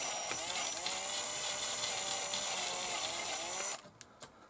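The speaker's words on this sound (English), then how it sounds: "I'm going to try and do it with a drill bit gently." A drill bit bores gently and steadily through a plastic box while working on a Tamiya DT04 Fighter Nxgen RC car, giving a continuous close whine for several seconds before stopping, followed by a few faint clicks.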